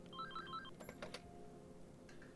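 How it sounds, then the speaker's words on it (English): A telephone rings in the visual novel game Angels With Scaly Wings, a quick electronic trill of stepped beeps, soft and brief, followed by a few clicks over low background music. "the phone's ringing"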